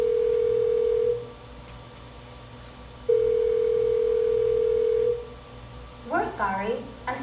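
A telephone line tone sounds in two long, steady, loud bursts separated by a gap of near silence, followed by a recorded voice message at the end.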